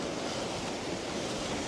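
Whitecapped sea waves wash against the starboard side of a sailboat out at sea, a steady, faint hiss of churning water mixed with wind rush and no voices.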